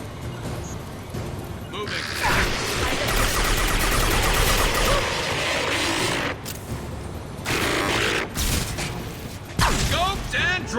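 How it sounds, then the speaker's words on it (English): Sniper rifle fire during a Mass Effect 2 firefight: dense, sharp gunshots and mechanical clatter fill the scene almost continuously, broken by brief lulls and a final loud crack. "You're a sniper! Use the sniper rifle!"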